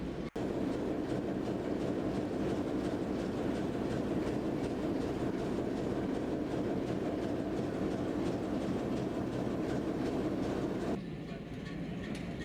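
Steam locomotive 13594 moves out of a steam shed. A steady, heavy rumble with faint rhythmic clanking continues throughout at moderate distance, then thins near the end.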